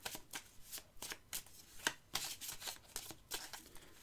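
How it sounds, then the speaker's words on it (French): A deck of tarot cards being shuffled up close, a quick run of crisp riffling and slapping bursts in an uneven rhythm, quiet and alone without any voice. "On va rajouter une carte pour les célibataires."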